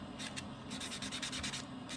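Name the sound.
nail buffer going over powder dip nail top coat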